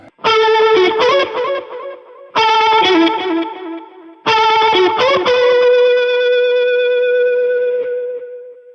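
An electric guitar plays three distorted, chorus-drenched phrases, the last note ringing out and slowly fading; loud and alone, with no voices.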